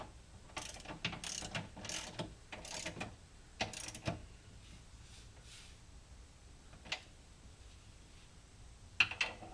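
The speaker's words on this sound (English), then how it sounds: "We're going to torque the bolts on the bottom." A torque wrench ratchets on lower suspension bolts of a Ford Mustang GT500, sending out bursts of close, sharp clicking strokes, then a few sparse ticks and a final click after a quieter stretch.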